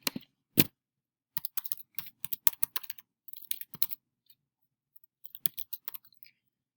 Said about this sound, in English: First, type in your browser.